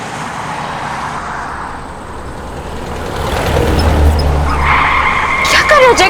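A car skids while driven recklessly, a rising tire squeal near the end over a steady rumble of engine and road noise.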